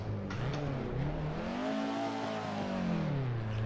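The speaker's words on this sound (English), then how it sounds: "listen to this engine sing when you're pushing it to the limits" A race car engine in the video game Assetto Corsa revs steadily, its pitch climbing and then easing back down in a continuous high whine, fairly faint and heard alone.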